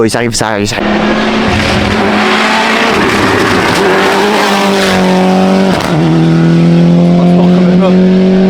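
Rally cars racing past at speed on a wet road at the Rallye d'Antibes, engines roaring and revving loudly close by with a pitch sweep as they pass, while spectators talk.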